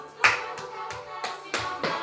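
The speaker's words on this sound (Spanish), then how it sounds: "Aplauso, tac, tac, tac, tac, tac, tac." Hand claps in a body percussion workshop, six sharp claps in an uneven rhythm, close and fairly clear with no talking over them.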